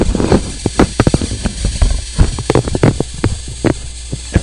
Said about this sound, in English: What you're hearing now is infrasound.